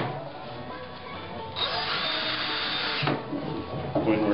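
A power drill whirs in short bursts driving screws into the wooden armrest of an Adirondack chair, revving up for a second or so at a time, with faint handling noise between runs.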